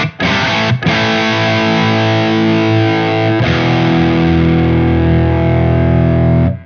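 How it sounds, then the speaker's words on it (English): An electric guitar played through a Synergy Fryette Deliverance drive module rings out in loud, dry, raspy distorted chords, one brief break and then a long sustained chord, with no voices. "a lot of people describe the Fryette sound as a dry drive sound. It's almost raspy."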